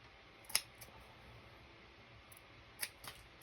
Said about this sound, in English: This corner, I might actually cut a little piece of material.